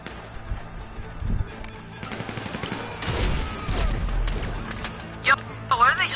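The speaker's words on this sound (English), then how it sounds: "Yo, but what are they shooting at?" Bursts of video game gunfire during a heist, a rattling fusillade of rapid shots mixed with thuds and crashes, moderately loud under a voice talking.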